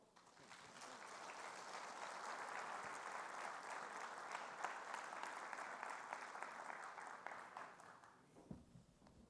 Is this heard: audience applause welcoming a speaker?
yes